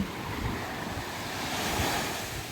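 Sea waves wash steadily onto a shore on a rainy day, a continuous broad rushing surf with some wind buffeting the microphone, with no voices.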